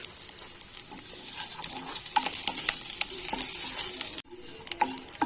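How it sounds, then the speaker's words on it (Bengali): Fresh curry leaves crackle and sizzle steadily in hot oil in a pan, with a constant bright hiss punctuated by sharp pops and a brief break near the end before the frying resumes. "কারি পাতা ভাজা হতে হতে,"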